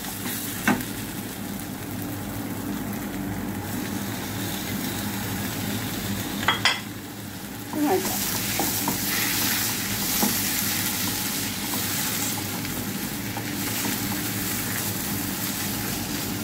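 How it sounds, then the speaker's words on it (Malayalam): Onions sizzle and fry steadily in a hot pan, loud and close, with a few sharp scrapes and clinks of a spoon stirring against the metal. "പച്ച മണം പോകുന്നതുകൊണ്ട് നമുക്ക് വഴറ്റിയെടുക്കാം"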